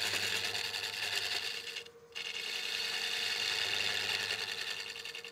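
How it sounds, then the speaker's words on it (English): A wood lathe fitted with a Longworth chuck strains under a heavy cut, giving a loud, continuous mechanical buzz and whir close by. The sound briefly dips in the middle, then resumes. "if you hear a lot of weird noises, that means the chuck doesn't like the force being put on it"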